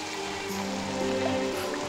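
Steady rain pours down outdoors, a dense continuous hiss with no speech over it.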